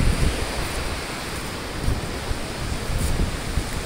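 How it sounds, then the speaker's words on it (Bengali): Water flowing like a small river through a forest in light rain, a dense, steady rushing wash that stays loud and unbroken, with no voices. "এখান দিয়ে নদীর মতন পানি বয়ে যাচ্ছে"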